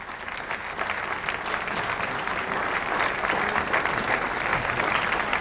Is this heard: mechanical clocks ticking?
no